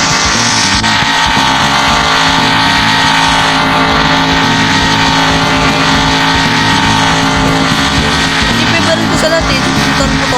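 A motorbike in the Roblox Brookhaven game plays as a loud, steady engine drone with shifting revs throughout, and game sounds layered on top.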